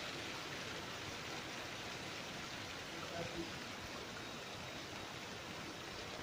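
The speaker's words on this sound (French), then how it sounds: "Voilà, une petite averse." A light rain shower falls steadily on a garden in French Guiana, a constant hiss of drops at close range that stays even throughout without pauses.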